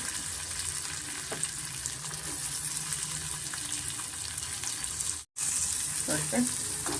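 Garlic, ginger and onion frying in melted butter in a pan for a fenugreek and pea gravy, a steady soft hiss with faint scrapes and one brief cut-out near the end, no speech.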